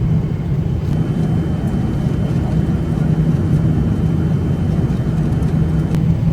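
Steady, loud broadband cabin roar inside an Emirates airliner during turbulence, a dense unbroken rumble throughout with a few faint clicks and no talking.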